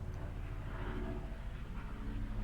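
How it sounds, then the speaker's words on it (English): A distant helicopter passing overhead gives a low, steady rumble that stays faint and even. "That's a helicopter flying over."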